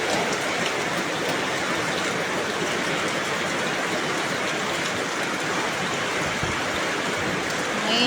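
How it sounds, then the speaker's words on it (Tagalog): Heavy typhoon rain pours steadily and densely throughout, a constant loud wash of water with faint voices in the background. "Walang hinto ang ulan."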